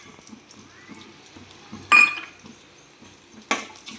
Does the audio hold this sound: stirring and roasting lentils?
yes